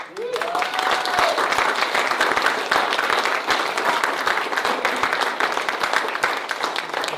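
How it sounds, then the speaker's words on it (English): Audience applause at a city council meeting: continuous, even clapping from a modest crowd lasting several seconds, with a voice briefly audible at the start. "deserves a round of applause"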